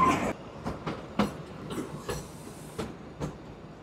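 Kalka-Shimla narrow-gauge toy train, the Him Darshan Express, rolling toward Shimla station: a steady rumble broken by sharp, irregular clickety-clack wheel knocks over rail joints, close and fairly loud, with no talking.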